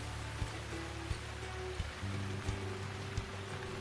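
Steady rain falls outdoors, a dense continuous hiss with soft scattered drops under a low rumble, fairly faint and unbroken.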